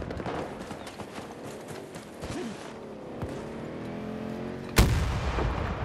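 Gunfire in Battlefield 2042's Rush mode: a dense battlefield din of rapid shots and rumbling explosions, ending in one sharp, loud blast near the end.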